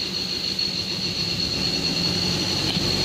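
Ford Ranger T6 engine with a rough idle and heavy vibration, a steady moderate drone with a low rumble and hiss, no audible rev rise within the short stretch, no voices.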